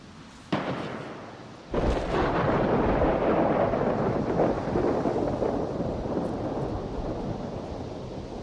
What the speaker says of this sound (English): That storm's a raging.